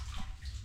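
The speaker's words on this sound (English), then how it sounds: "so we fetch water from here." Water sloshing and pouring as it is fetched into a container at a water source, a short close burst of gurgling flow.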